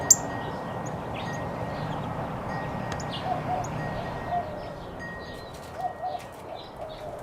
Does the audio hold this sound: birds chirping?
yes